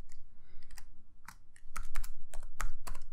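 Close computer keyboard typing of code, a quick run of crisp keystrokes with brief pauses, including some sharper, louder key presses.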